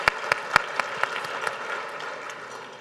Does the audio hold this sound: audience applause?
yes